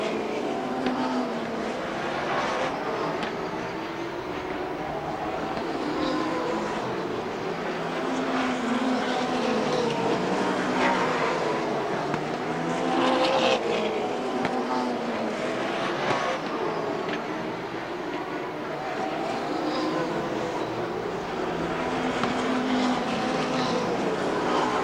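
Stock cars race at Rockford Speedway in the 1992 ARTGO 300, with engines roaring continuously at a distance and swelling as the pack passes, under a commentator's steady voice.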